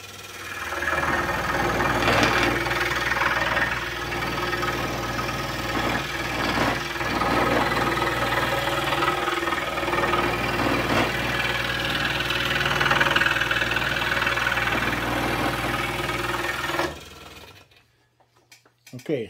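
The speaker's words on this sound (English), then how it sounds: "I don't know if you're hearing a lot of vibration on my saw" A scroll saw cutting a wooden animal puzzle runs continuously with a steady buzzing, rattling vibration from shaking shelves, loud and close for most of the stretch before cutting off near the end.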